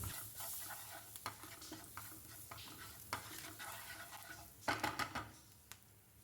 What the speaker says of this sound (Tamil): கூடவே கொஞ்சமாக கருவேப்பிலை சேர்த்து நல்லா மிக்ஸ் பண்ணி விட்டுருங்க.